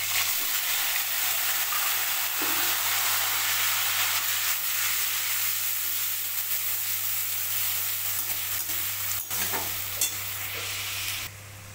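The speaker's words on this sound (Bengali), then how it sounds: "তো পেঁয়াজটা দেখো লাল লাল ভাজে" Onion paste frying in oil with bay leaves and whole spices in a pan, a steady soft sizzle with faint stirring scrapes over a constant low hum, no voices.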